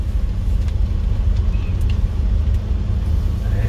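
A manual-transmission car engine drones steadily from inside the cabin during a driving lesson on a snowy day, a continuous low rumble with road noise and no clear changes in pitch.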